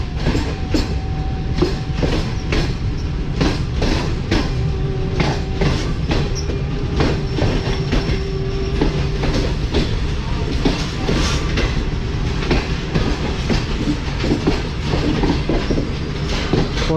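Railway station in Pakistan where locomotives for goods trains rest, with a steady rumble of rolling rail cars and clickety-clack, plus occasional faint wheel squeal, continuous and fairly loud.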